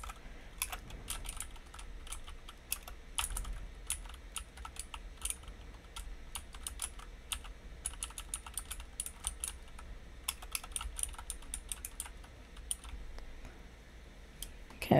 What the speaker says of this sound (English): Let me see if I can actually type something.